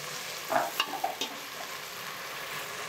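Green chillies sautéing in a pan for ghee rice: a soft, fairly quiet sizzle with a few quick spatula scrapes and clinks early on, settling into an even low hiss.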